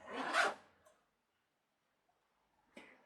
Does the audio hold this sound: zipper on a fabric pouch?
yes